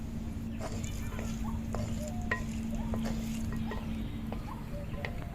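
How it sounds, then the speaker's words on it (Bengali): Cumin seeds, whole dried red chillies and bay leaves crackle in hot oil in a clay pot, a steady close sizzle dotted with small pops and scrapes, while someone talks over it. "তেল গরম হয়ে গেছে সাদা জিরে ফোড়নে দিয়ে দেব গোটা শুকনো লঙ্কা তেজপাতা"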